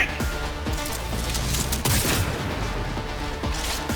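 Rapid bursts of gunfire from a firefight in the video game Cyberpunk 2077, loud and dense, with repeated shots and a sharp impact near the middle, continuing without talk.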